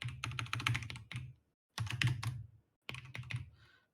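Keys clatter on a computer keyboard as code is typed, coming in three quick bursts of dense, uneven clicks with brief pauses in between, close and clear with no talking.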